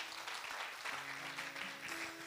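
Church congregation clapping in praise of Jesus during a French-language service, a steady wash of applause from a crowd, moderately distant and fairly faint for a couple of seconds.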